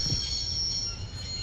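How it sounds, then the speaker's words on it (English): A train grinding to a halt in the Broken Sword adventure game, a steady dense rumble of rolling wheels and rail noise with a sustained high metallic squeal running throughout, loud and continuous with no voices. "I'd always wanted to stop a train, and now was my Oh? chance."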